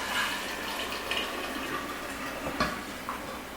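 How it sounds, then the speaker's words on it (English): Hot liquid for homemade kombucha, poured into a one-gallon container from a kit, makes a close, steady splashing fill with a few small knocks of the vessel, and no voices. "So we're just going to pour that in there."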